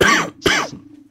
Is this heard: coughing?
yes